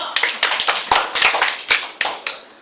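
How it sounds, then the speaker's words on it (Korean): An audience claps in a classroom-style lecture hall, a burst of sharp, uneven hand claps repeating across a few seconds, fairly close and loud, with no talk over it. "뜨거운 박수 100번! 뜨거운 박수!"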